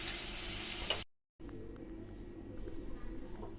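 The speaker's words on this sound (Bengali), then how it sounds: "এতে দেব সামান্য পরিমাণে হলুদ গুঁড়ো, দিয়ে আমি মাছটাকে ভেজে নিচ্ছি।" Shrimp frying with turmeric in a pan gives a quiet, soft sizzle that is cut by a brief silent gap, then returns even fainter.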